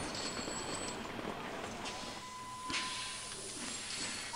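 A small train arriving at a station in Sid Meier's Railroads, a steady faint hiss and rolling rumble with a thin whistle-like tone near, heard alone at low volume.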